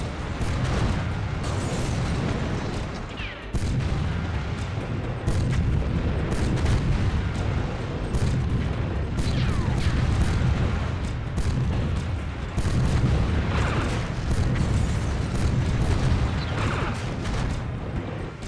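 Grenade blasts boom repeatedly in a video game, forming a dense, loud and continuous run of heavy explosions and rumbling impacts with no voices over them.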